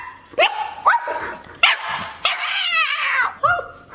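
A puppy barks and yips in a series of about five sharp, high, close bursts with short gaps between them, and a brief whimpery run in the middle.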